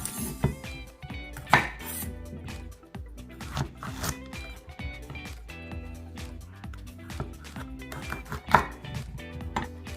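Bitter gourd (ampalaya) sliced with a knife on a cutting board, heard as a steady run of sharp, close knife chops and board knocks with brief clattery accents, with no talking over it.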